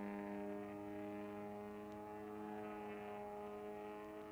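A radio-controlled aerobatic airplane flying an IMAC Sportsman loop gives a steady, loud, droning engine tone with strong harmonics that holds throughout, with no voices over it.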